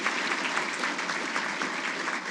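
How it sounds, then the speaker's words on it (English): Steady applause from an audience at an annual awards ceremony, honoring awardees seated up front; dense, even clapping holds throughout at moderate loudness with no voices over it. "Let's give them a round of applause."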